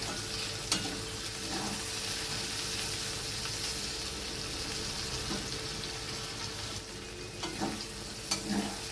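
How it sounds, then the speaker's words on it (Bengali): Okra fries in a pan while a spatula stirs it, a constant low sizzle with occasional scraping clacks against the pan, close and steady. "ততক্ষণ এইভাবেই আমি খুন্তি দিয়ে নাড়বো"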